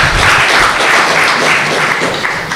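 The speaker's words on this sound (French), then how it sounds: "Acclamons pour lui." An audience applauds loudly and steadily, a dense wash of many hands clapping that holds throughout without a break.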